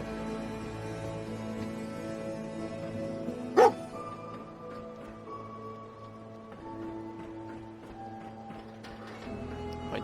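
A dog barks once, short and sharp, in the Fallout 4 video game, heard against a steady soft game soundscape with faint tonal music and ambient hum.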